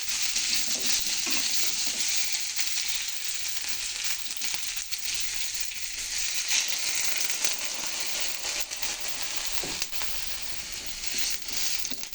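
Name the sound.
vegetable curry frying in a pan before water is added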